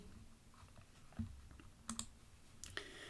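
A computer mouse clicks a few times while settings are changed in the Scratch online editor. The clicks are sharp, quiet and close, scattered irregularly across a near-silent background.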